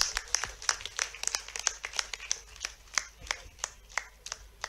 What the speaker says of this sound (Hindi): तो जोरदार ताली बजा के स्वागत करो।